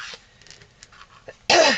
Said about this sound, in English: If I happen to cough in this reading